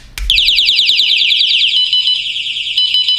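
A projection alarm clock's alarm is triggered during a test, starting abruptly after a click into a loud, rapid, high-pitched electronic beeping that repeats without a break.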